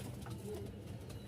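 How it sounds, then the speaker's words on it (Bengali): A pair of full black Rajshahi Giribaz pigeons cooing faintly in a loft, soft low coos against a quiet background. "এই যে চোখ ধাঁধালো এক জোড়া কবুতর"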